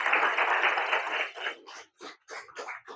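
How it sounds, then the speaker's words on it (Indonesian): A classroom of students claps for a classmate, a brief dense burst of hands that thins into a few scattered claps and fades quickly. "Tepuk tangan untuk Nadine."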